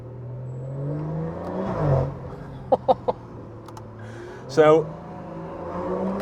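A BMW M140i engine hums and rises in pitch as the car pulls through a village, with a sharp louder surge near the end and someone speaking briefly over it.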